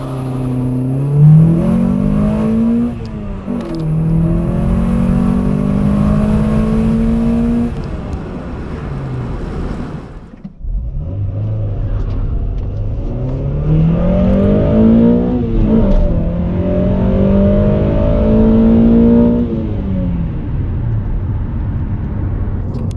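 Honda Prelude VTi 2.0 accelerating hard on a soaked road, engine climbing steadily through the revs toward the redline with a brief drop at an upshift, then pulling up again, loud and close throughout.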